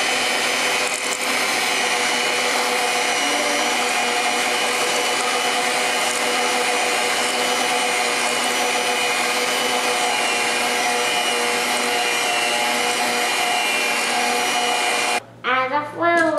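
Electric mixer beating walnut chocolate chip cookie dough in a home kitchen, a loud steady motor whir with grinding texture running continuously for about fifteen seconds before cutting off abruptly.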